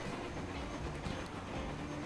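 Trains running in the video game Transport Fever, a faint steady rumbling rail noise with soft clattering texture, continuous and distant.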